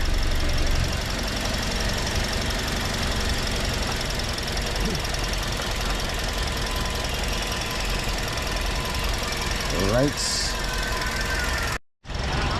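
Engine of a 2025 Toyota Vios runs steadily with a rough knocking hum and brief squeal, loud and close, then cuts off abruptly near the end.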